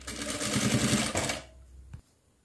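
A domestic sewing machine stitching a girl's simple dress with gathered ruffles, running in a steady close whir for about a second and a half before stopping with a small clunk.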